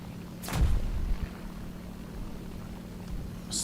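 Aircraft-dropped bombs in the War Thunder video game detonate in a single deep, muffled boom with a rumbling low tail, heard at a distance over steady engine drone, followed by a faint later thud.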